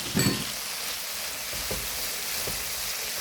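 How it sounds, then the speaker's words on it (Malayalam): Carrot and tomato sautéing in a pan for a curry, a steady broadband sizzle throughout with a few soft stirring scrapes and one brief louder clatter near the start. "അത് ഇതിൻ്റെ കൂടെ ഇട്ട് നമുക്ക് വഴറ്റിയെടുക്കാം."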